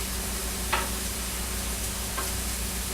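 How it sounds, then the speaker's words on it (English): Sliced mushrooms and chopped garlic sizzling steadily in a hot frying pan, a continuous close crackle with a couple of faint clicks of stirring and no voice over it. "Mushrooms are cooking down. Time to add some chopped garlic."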